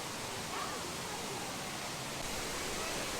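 Waterfall at the Africa Rocks exhibit of the San Diego Zoo, a soft continuous hiss of falling water heard steadily at low level for a few seconds.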